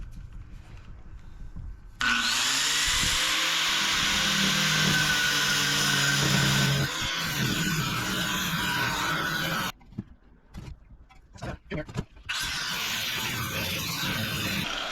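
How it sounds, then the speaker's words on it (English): A disc cutter fitted with a wheel of the wrong size grinds through aluminum, giving a harsh, loud, close screech in long passes broken by short pauses and bursts as the cut resumes. "I don't like using that kind of disc on aluminum."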